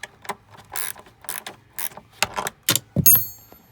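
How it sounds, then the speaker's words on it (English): A ratcheting wrench turns a bolt on the heater of an Opel GT, working behind the dash: a run of short, close clicking bursts in an irregular rhythm, with a slightly louder clack near the end. "you'll definitely want a ratcheting wrench to get in this one"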